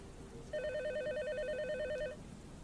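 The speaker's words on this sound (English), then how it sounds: "But at 1 a.m., a phone call came in." A telephone rings with one trilling burst of about a second and a half, clear over a low background hiss, late at night during a rainy shift.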